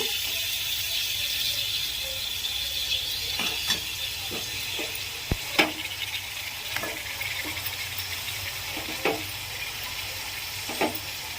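Minced meat (keema) frying with onions in a pan makes a steady close sizzle, with scattered sharp clicks and scrapes of a spatula stirring through it, and no talk.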